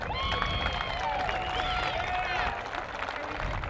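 A crowd applauds and cheers for a college cheer squad at a school event, steady clapping with whoops and whistles, moderately distant, with some voices mixed into the noise.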